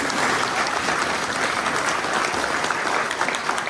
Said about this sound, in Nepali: हामी मन्दिर ताली बजाउँ यहाँको लागि